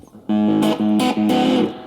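A Fender Japan guitar amp with the gain turned up to maximum plays fuzzy distorted chords in three short bursts, loud and close, with no talking.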